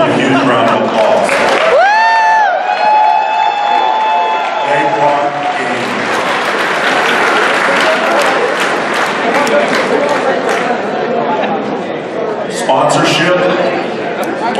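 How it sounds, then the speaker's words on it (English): Applause and cheering from a crowd at the QuakeCon 2016 Quake finals, with whoops and a tonal voice or whistle early on, sustained steadily throughout. "Give these people a huge round of applause"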